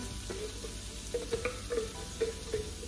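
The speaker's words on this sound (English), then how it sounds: "Now we're gonna put the cream corn in" Cream corn goes into a buttered pan of frozen corn, with a low steady sizzle under a series of soft, repeated scraping and stirring sounds close by.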